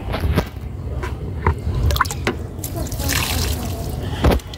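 Water is poured onto young garden plants and seedlings, splashing and dripping in uneven bursts close by, with a brief louder splash near the end.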